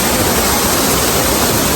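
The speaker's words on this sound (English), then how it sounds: "Look at this waterfall, guys." The waterfall at Fonts del Algar, near Callosa d'en Sarrià on Spain's Costa Blanca, roars as a loud, steady, broadband rush of falling water filling the whole clip with no pauses.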